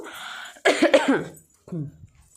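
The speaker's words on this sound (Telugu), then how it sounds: "ఇంకా కొంచెం దగ్గు అవి తగ్గలేదండి" A person coughs in a quick, harsh burst of several coughs, followed after a pause by a shorter, lower cough or throat clearing, close by.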